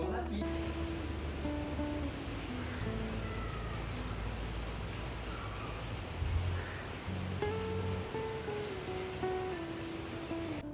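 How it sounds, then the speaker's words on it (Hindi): Rain falls steadily under cloudy skies, a soft continuous hiss filling the background throughout while a person talks over it. "अभी भी बारिश तो हो ही रही है"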